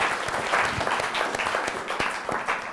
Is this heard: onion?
no